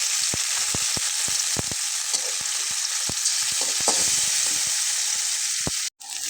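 Cumin, ginger and garlic frying in hot oil, a loud continuous sizzle close up with frequent sharp pops and spatters throughout, briefly cut off near the end.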